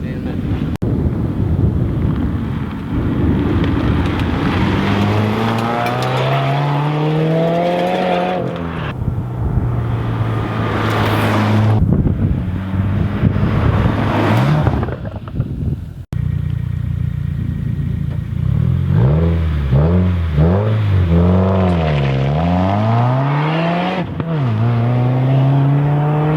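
A 2017 Subaru WRX with a muffler delete exhaust drives past and revs, its loud rasping engine note rising and falling through several throttle blips, with wind buffeting the microphone throughout.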